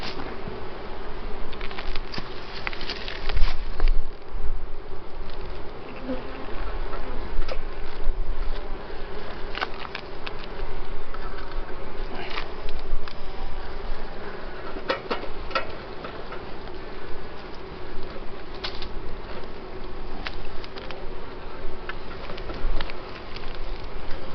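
A dense, steady hum of many honey bees buzzing close up around a hive frame, with occasional louder passes and soft tapping, no voices.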